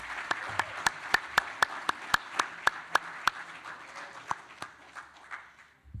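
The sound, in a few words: audience applause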